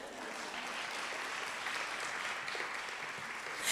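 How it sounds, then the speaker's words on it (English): An audience clapping during a TEDx talk, a soft, even wash of applause heard from a distance that carries on for several seconds without speech. "You can clap. It's okay."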